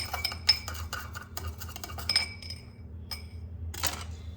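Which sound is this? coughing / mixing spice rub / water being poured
mixing spice rub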